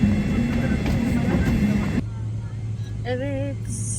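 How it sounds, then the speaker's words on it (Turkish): A passenger airplane begins to roll and taxi: a broad, loud engine rush gives way to a steadier low hum with faint whistling tones near the end. "Uçağımız hareket etmeye başladı."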